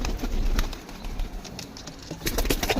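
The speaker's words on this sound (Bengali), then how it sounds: "এই সেই পায়রাটা" A pet pigeon being handled indoors, with soft low cooing and bursts of wing flutter coming through close and fairly loud amid rustling, no talk.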